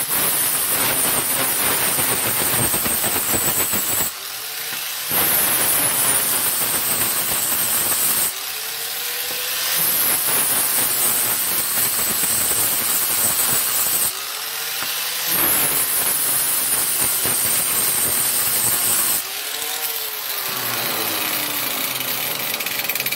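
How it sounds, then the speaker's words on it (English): A rotary grinder takes burrs off metal parts for a DIY 72V battery build, giving four loud, sustained grinding bursts separated by short pauses as the tool spins down and starts again. "I gotta get these little burrs off, so I'm grinding them"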